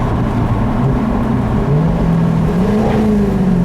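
A loud 2015 Jaguar F-Type R Coupe engine roars continuously close by, its pitch climbing through the gears with brief dips at downshifts.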